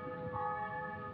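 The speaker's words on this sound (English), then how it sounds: "It's the church bells. It's funny time for them to ring." Church bells ring steadily at a distance, their overlapping tones forming a sustained, resonant wash with no voices present.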